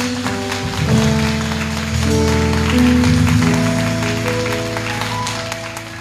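A church congregation at a worship service applauds with scattered clapping beneath loud sustained keyboard music that swells and shifts chords throughout.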